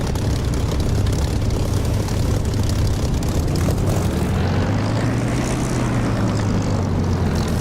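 A propeller aircraft takes off in the DCS flight simulator game, with a loud, steady engine drone and propeller roar whose pitch rises as it gathers speed, and no talking.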